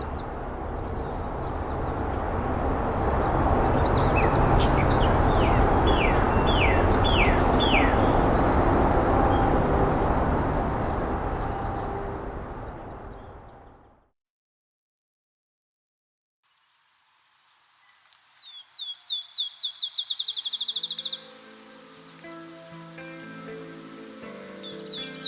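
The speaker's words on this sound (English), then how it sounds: "The field sparrow has a very lively song. It starts off with slow, repeated tones, then accelerates to a point where it almost blurs into a solid note." Field sparrow song: quick notes speed up into a bright trill that nearly blurs into one note. It comes after a long stretch of loud, rumbling outdoor noise and a brief silence.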